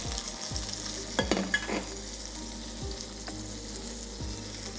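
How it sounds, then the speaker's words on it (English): A steak is laid into a hot, oiled pan and sizzles steadily, with a few brief louder crackles and bumps early on, close by and with no talking. "And then we're gonna lay this steak in."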